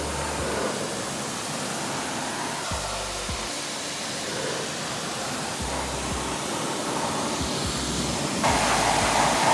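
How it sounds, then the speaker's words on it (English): Pressure washer rinsing a Nissan Skyline R34 during a touchless pre-wash, giving a steady close hiss of spray that gets louder and brighter near the end. "I followed up with a thorough pressure rinse down to remove as much grime"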